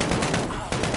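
Gunfire in the Call of Duty: Warzone game, a dense, loud burst of rapid shots and impacts filling the whole brief moment, with a short dip in the middle.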